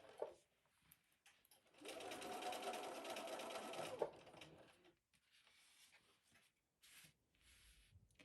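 A sewing machine stitches a seam on a cross stitch bag in one steady run of about two seconds, with a rapid mechanical whir, then short stops and starts with soft handling clicks, close and quiet.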